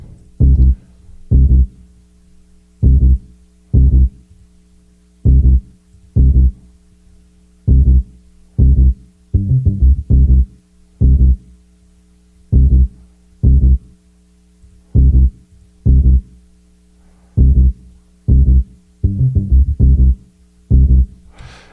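Bass line in an R&B mix with the low end around 100 Hz cut, heard alone as loud, evenly spaced deep thumping notes that repeat steadily with a few quicker clusters.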